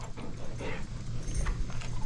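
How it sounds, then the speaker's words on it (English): Small pet dogs indoors give faint whimpers and yips beneath a steady, loud broadband hum that runs for the whole stretch. "And these dogs, I love them."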